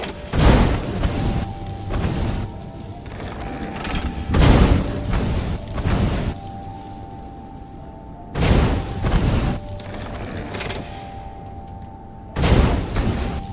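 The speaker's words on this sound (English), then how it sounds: "These cannons are powered by the magic power of bullshit!" Cannons in the video game Stories: The Path of Destinies fire four heavy booming blasts, evenly spaced and loud, each trailing into a rumbling decay over a steady background hum.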